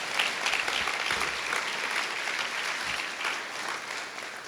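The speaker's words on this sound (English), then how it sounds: "you can clap it up" Audience applause after a song performed at a Lawson High School ribbon cutting, a steady crowd of hands clapping at moderate distance, holding evenly for several seconds and easing slightly near the end.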